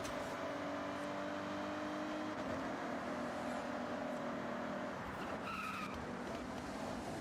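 Toyota Supra racing in Forza Horizon, its steady engine drone layered with tire skids and squeals, loud and continuous throughout with a brief higher screech near the end.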